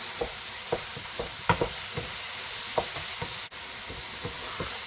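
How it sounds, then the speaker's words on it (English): Minced beef sizzles steadily in a hot pan while a utensil scrapes and stirs it in irregular strokes, close up with no talking. "Keep stirring it vigorously while you're frying it,"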